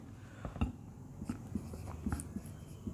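A pen scratches across paper while a math proof is written out by hand, giving a string of short, crisp strokes and taps at an uneven pace, close and moderately loud over a soft background hiss.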